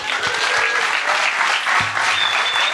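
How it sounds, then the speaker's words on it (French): Audience applause at a climate-themed comedy show, dense and steady clapping from a crowd filling the whole stretch at even loudness. "un tonnerre d'applaudissements"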